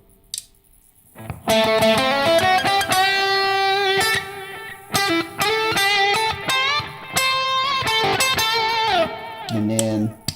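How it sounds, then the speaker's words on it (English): Electric guitar through a traditional Klon overdrive setup, driven chords and note runs played loud after a brief quiet start, with short gaps between phrases and a low note at the end. "So let's go to the full traditional Klon setup."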